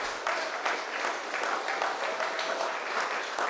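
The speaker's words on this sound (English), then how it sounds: "I want to first start off by giving a huge round of applause to the political leader and the candidates" An audience at a town hall meeting in Sauteurs, St. Patrick, applauds the political leader and candidates: a continuous, moderately distant wash of clapping that holds steady throughout, with no voices standing out.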